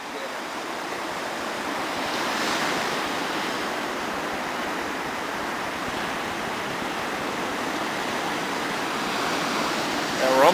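A Delta 4 rocket launch at night heard from a distance as a broad, steady roar and rumble like a wall of noise, holding level throughout and swelling slightly near the end.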